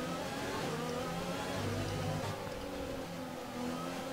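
Tyres locking up under braking in the F1 2020 racing game, a steady loud engine and tyre roar that swells briefly mid-clip, continuous with no talk.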